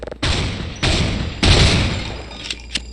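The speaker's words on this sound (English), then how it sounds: "That's a grenade." A grenade explodes in a video game, giving three heavy booming blasts in quick succession, each with a rumbling low-end tail, followed by a couple of short, sharp crackles.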